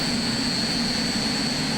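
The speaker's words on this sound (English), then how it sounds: "it sounds like we've got a turbine once again, and you're right. We've got another helicopter power unit here" A pulling tractor powered by two Super Frelon helicopter turbine engines totalling 1,600 horsepower at an indoor European tractor pulling event, giving off a steady, loud turbine whine with a high-pitched tone and a broad roar, unbroken and without speech.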